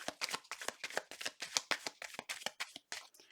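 Tarot cards shuffle rapidly up close, a quick rhythmic series of crisp riffling snaps continuing steadily for a few seconds.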